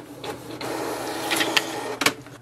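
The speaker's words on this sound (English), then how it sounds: "click on the print button, and it will send a command for the printer to print" A Canon PIXMA TS5000 printer runs a print job up close, with a continuous mechanical whir and a few sharp clicks and clacks of the paper feed, with no talking.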